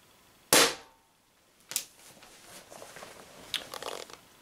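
Umarex HDR50 pistol fired once in a room at about 20 degrees Celsius, giving a single sharp, loud pop followed by quieter handling clicks and rustling.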